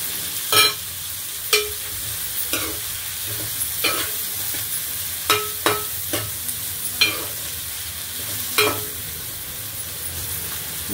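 Sliced onions sizzle and fry in a pan for egg curry, a steady close hiss punctuated by sharp clinks of a spoon stirring against the pan at irregular intervals.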